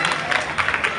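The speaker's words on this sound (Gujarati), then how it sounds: "બંનેને જોરદાર તાળીઓથી વધાવો" An audience claps and cheers at a Shreemad Bhagvat religious gathering, a brief, dense burst of applause with a voice mixed in.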